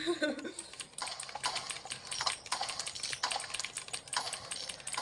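Rapid clattering keystrokes on a Torima TK 04 computer keyboard, steady and close with bursts of clicks continuing throughout, faint talk underneath at moments.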